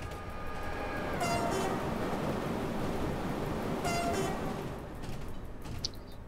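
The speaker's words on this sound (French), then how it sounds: "je klaxonne quand on passe à côté du train" Train horn of a French locomotive on a German line, sounding twice in short bursts as another train passes, both blasts heard over a loud continuous rumble of wheels and rail noise inside the cab.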